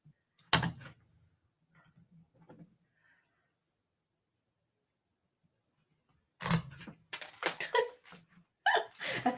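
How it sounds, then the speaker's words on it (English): Small paper-beading spacers drop off the edge of a desk, making a few light clattering taps, with a short burst near the start and denser clicks and rattles toward the end in a quiet room. "it's the spacers falling off the edge of my desk"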